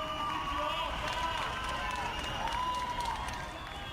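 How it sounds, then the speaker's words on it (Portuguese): Applause from residents of Brasília clapping at their apartment windows to celebrate the capital, a steady wash of scattered hand claps spread across a wide space, with faint whistles or tones over it. "os brasilienses foram às janelas para dar uma salva de palmas pela capital"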